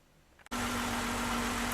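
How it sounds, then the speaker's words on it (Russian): An Audi 100 C4 car engine cranks and catches abruptly, then settles into a loud, steady idle with a constant low hum. "Завели машину"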